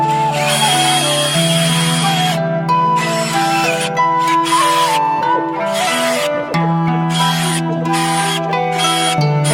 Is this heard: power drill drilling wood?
yes